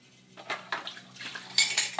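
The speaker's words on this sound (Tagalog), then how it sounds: "Hugas ko og plato." Cutlery and dishes clink and clatter during home dishwashing, with water faintly running, in scattered irregular clanks that grow louder toward the end.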